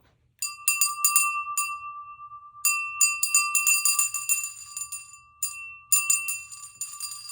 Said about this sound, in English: I'm going to ring this little bell